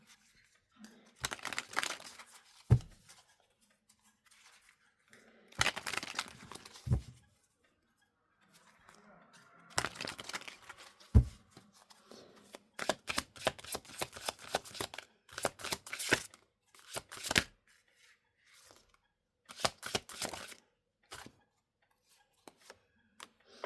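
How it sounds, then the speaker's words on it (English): Tarot cards shuffled and handled in several bursts of crisp riffling and flicking, separated by short pauses, close and fairly quiet with no talking. "So, I now want to pull you 6 tarot cards."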